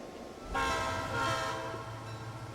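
A train horn sounds in Transport Fever 2 as two long, loud blasts from close by, riding over a steady rumble of rolling railcars.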